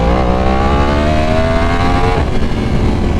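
A motorcycle engine revs loudly and steadily as the bike is ridden, the pitch climbing through the gears with a noticeable shift partway through, and the sound is close and continuous with no voices.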